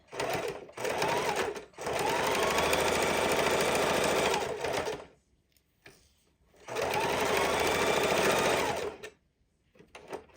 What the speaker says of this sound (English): let's sew down the hooks and loops on this side